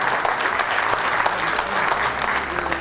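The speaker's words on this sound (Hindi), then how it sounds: "मैं आपसे निवेदन करूंगा एक जोरदार तालियां बजा के श्री बाबूराम जी गुप्ता का सम्मान किया जाए" A seated audience at a Holi Milan community gathering claps steadily in dense, sustained applause that fills the room without pause.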